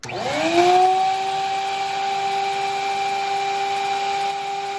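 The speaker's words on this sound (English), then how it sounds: "After that, you turn on the built-in vacuum capability." A record cleaning machine's built-in vacuum starts up with a steady motorized whirr and high whine, running evenly and humming close by.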